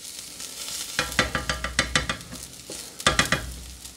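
Onions browning in a hot pan over medium heat give a low sizzle, then a rapid run of scraping stirs, a short pause, and another quick burst of stirring, all close and without talk.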